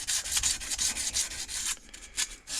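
A skew chisel edge is honed by hand, giving close, raspy rubbing strokes in a quick back-and-forth rhythm, with a short pause near the end before the strokes resume.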